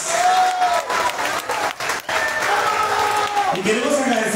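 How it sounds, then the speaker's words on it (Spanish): A crowd at a national cimarrona band festival in Palmares claps hard for several seconds, loud and continuous, with whistles and some cheering mixed in. "ellos de verdad se merecen un fuerte aplauso"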